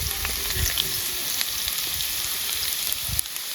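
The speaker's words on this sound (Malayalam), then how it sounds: "ലേശം വെളിച്ചെണ്ണ ഒഴിച്ചു കൊടുക്കുക." Coconut oil sizzles steadily in a hot pan for Kerala pork curry, a close, even crackle with small pops and no voices.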